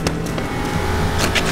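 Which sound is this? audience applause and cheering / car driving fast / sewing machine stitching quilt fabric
car driving fast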